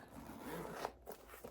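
A zipper pulled open on a leather handbag with two zippers and a zip running all the way around, giving a brief, soft rasping slide with a few small ticks toward the end.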